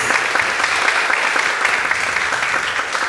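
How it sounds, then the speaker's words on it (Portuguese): A church congregation applauds loudly in praise during a Portuguese-language sermon. The clapping is close, dense and vigorous, holding strong and steady for about three seconds with no talking. "Aplauda bem forte ao Senhor em nome de Jesus."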